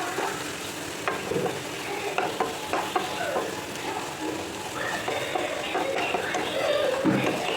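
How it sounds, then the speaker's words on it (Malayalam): A spoon scrapes and stirs turmeric and chili masala frying in a pan for egg curry, a steady sizzle with repeated scraping clicks, close up, without talking over it. "ഇളക്കി കൊടുക്കാം"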